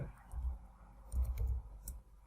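Computer mouse clicks at a desk while working in the Unity editor, several faint, sharp clicks spaced irregularly over quiet low background noise.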